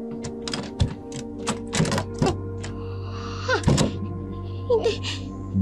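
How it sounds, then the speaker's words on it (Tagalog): A key works a doorknob lock in a dark room: a series of sharp metallic clicks and rattles comes close and clear over a faint steady hum, in irregular bursts. "Biglang narinig ang tunog ng susi ng doorknob."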